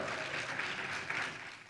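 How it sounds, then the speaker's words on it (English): An audience at a Women in Entertainment awards event in Mumbai claps continuously in a brief burst of dense applause, heard from within the crowd. "Please put your hands together."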